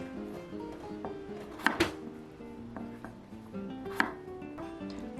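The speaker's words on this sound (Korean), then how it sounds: "감자 조림용 감자를 썰어줍니다" A knife chops small potatoes on a cutting board for braised potatoes, giving a few sharp, close strikes spaced irregularly over a quiet kitchen background with no talking.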